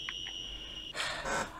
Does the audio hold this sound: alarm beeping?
yes